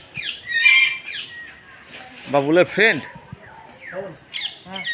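A harsh mynah squawk with chirpy calls, from a bird cage at the Bangladesh National Zoo in Mirpur, Dhaka, cuts through a voice talking nearby; the squawks come in short bursts.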